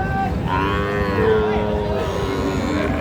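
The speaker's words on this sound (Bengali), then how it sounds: "আচ্ছা গরুটা একটু দেখে নেই সাইওয়াল কিন্তু সার বাচ্চা" A young Sahiwal calf, under three months old, lets out one drawn-out moo close by at a busy cattle market, set against a murmuring crowd background.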